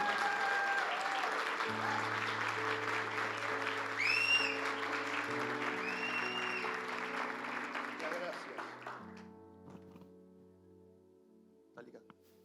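A church congregation gives loud applause to welcome a pastor over sustained organ-like music. The clapping fades out after about nine seconds, leaving the music and a few faint sounds.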